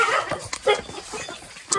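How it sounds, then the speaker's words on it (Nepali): A few short, sharp dog barks and yips close by, irregular and loud, in a brief burst with no talking. "कुकुरले डस्दैन कुकुरले डस्यो भने त गिड्डी हुन्छ"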